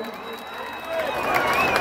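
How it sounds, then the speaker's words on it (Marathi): A crowd applauds at a human pyramid event, a dense wash of clapping and cheering that swells in the second half, with an announcer's voice running over it. "टाळ्या वाजत राहिल्या पाहिजे"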